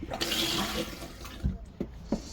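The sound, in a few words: trailer toilet bowl filling with water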